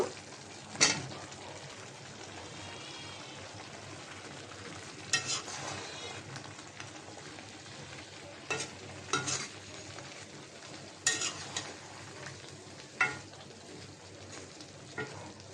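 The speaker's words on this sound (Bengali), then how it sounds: "আমি এখন এই মশলা কষানির সাথে কচুটা দিয়ে দিলাম কচুটা কষাই নিব" Taro pieces stirred into a frying spice masala in a pan for a taro and jhatka hilsa curry give a steady low sizzle, broken by a few sharp scrapes and clanks of the spatula against the pan.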